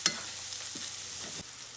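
Mushrooms frying in a pan, seasoned with salt and pepper, sizzle with a steady hiss while a utensil stirs them, giving a few soft scraping clacks near the end.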